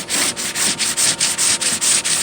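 Rhythmic back-and-forth rasp of 220-grit sandpaper on a sanding block worked over a 1998 Toyota Sienna's car body during dent repair, about nine even strokes close up with no talk.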